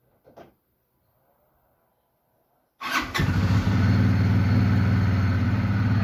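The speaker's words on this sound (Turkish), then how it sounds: "egzoz sesi falan gayet güzel bu arada" A Kuba TRV 350 ATV cranks and fires up after a short quiet pause, then settles into a loud, steady low-pitched idle with a throaty exhaust rumble close by.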